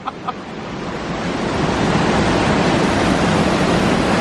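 Rushing water roars at Virgin Creek Falls in Girdwood, Alaska, a dense, steady wash of sound that swells louder after a brief quieter start with a couple of small knocks.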